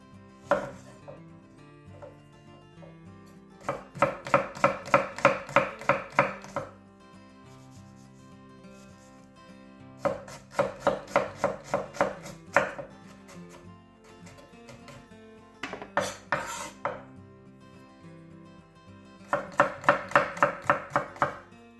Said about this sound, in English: So we'll just get these finely chopped.